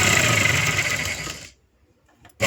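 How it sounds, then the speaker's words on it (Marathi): A sewing machine runs a quick stitch along a blouse's front button strip, a loud continuous whir for about a second and a half that stops abruptly, with a short restart at the end. "आपल्याला इथं शिलाई टाकून घ्यायची"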